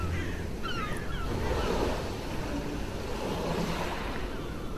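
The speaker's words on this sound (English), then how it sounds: "All around you are the sounds of the seagulls and the water, peaceful and rhythmic." Steady ocean surf washes in a continuous soft rush, with a few faint bird calls early on and light wind.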